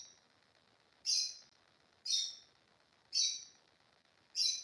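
A bird calls loudly outside with a sharp, high call repeated four times about a second apart, each burst standing out clearly over faint background hiss.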